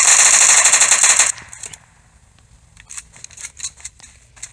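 In the video game PUBG Mobile, a rapid automatic burst of gunfire rattles loud and close, then gives way to scattered, fainter shots in quick clusters.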